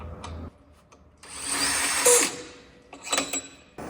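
A power tool bites into a stock snowmobile primary clutch bolt in a powersports shop, with two loud bursts of high whirring separated by a short pause and some quiet clatter before them.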